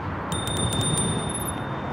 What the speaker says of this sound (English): All right, let's hit them with the bell again.